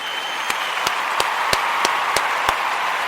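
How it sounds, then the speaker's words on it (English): Seven sharp, evenly spaced claps ring out over a steady bright hiss of crowd noise as an audience gives a round of applause for the Imani children. "I want to give all of the Imani babies a round of applause"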